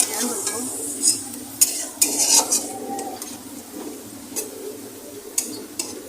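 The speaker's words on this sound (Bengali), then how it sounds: "ভাজা ভাজা করতেছি" Metal utensil scrapes and clinks against a pan while lentils with bay leaves sizzle softly underneath on a low gas flame, with irregular stirring strokes close by.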